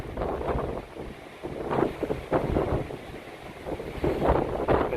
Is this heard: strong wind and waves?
yes